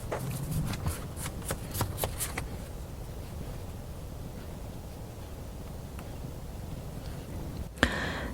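A tarot deck is shuffled for a reading, with a quick burst of riffling card flutters at the start, then a faint soft rustle, and a brief sharp snap near the end, close and quiet.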